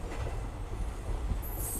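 A DEMU passenger train runs near Morbi, giving a steady low rumble of wagons rolling on rail with a faint high wheel squeal near the end, loud and continuous without voices.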